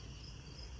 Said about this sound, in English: I still hear the crickets.